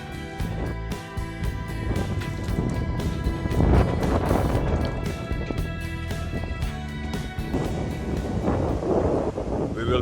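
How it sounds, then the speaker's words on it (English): Steady, heavy wind roar on a harbor breakwater at Leonidio, Greece, batters the microphone in surging gusts, with a low rumble and occasional louder bursts throughout. "the wind gusts are quite strong"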